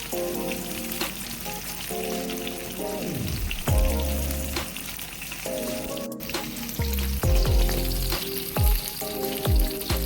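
Vegan fried chicken sizzles in oil over medium-high heat, a constant crackling fry broken by clinks and scraping as pieces are moved, with no talk.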